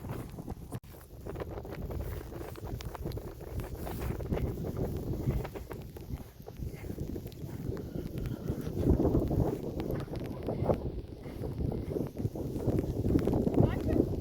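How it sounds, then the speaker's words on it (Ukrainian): Horse hooves clip-clop at a walk outdoors on a horseback ride, a steady uneven patter under gusty wind noise on the microphone. "Ось такі прогулянки на коня."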